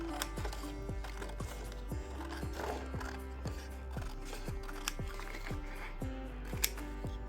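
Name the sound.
scissors cutting paper to page length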